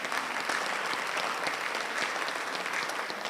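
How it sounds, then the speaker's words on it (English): Steady, dense applause from a crowded audience at a grants symposium keynote, many hands clapping evenly at a constant level throughout. "give yourselves a round of applause"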